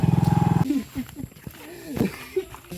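A wild elephant in the jungle gives a loud, pulsing, throaty call for about half a second. Then people talk nearby over quieter outdoor background.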